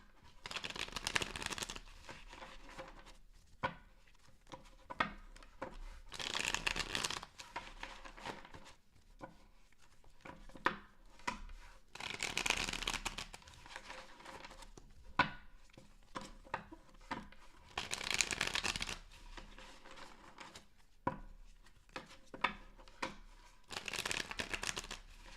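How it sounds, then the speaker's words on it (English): Tarot cards are shuffled by hand in repeated bursts of papery riffling and soft slapping, each burst separated by short quiet pauses, close and moderately loud with no talking. "Two more shuffles"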